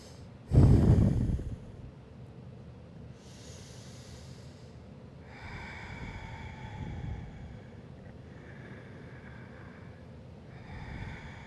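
A sharp, forceful exhale through the nose opens, followed by slow, airy breaths during a yoga flow on a block, soft and close with a faint windy hiss between them.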